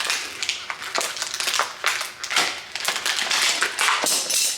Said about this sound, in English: I'm gonna break those out of the package.